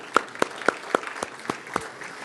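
Applause at a university awards dinner comes as a handful of separate, crisp hand claps at a steady pace, fairly close, without the dense wash of a full crowd.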